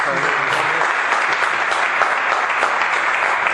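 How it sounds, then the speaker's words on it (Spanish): An audience claps in a warm farewell to departing colonels at a Spanish talk, a continuous, even burst of many hands at close range that holds steady from start to finish. "pues un aplauso, despedimos a los coronel"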